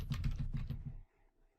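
A short burst of rapid keystrokes on a computer keyboard, close and clear, about eight quick taps in a second before stopping into near silence.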